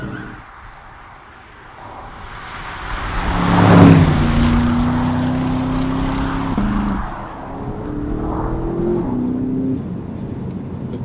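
A Porsche Panamera Turbo S E-Hybrid Sport Turismo accelerates hard in second gear, its engine note swelling into a loud rising drone with a gear change partway through, then climbing again, heard from inside without talk.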